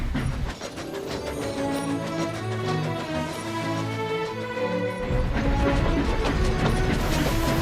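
Edward the steam engine from Thomas & Friends, recreated in the Trainz 22 simulator, puffs along the track with a steady rolling clickety-clack of wheels beneath continuous music.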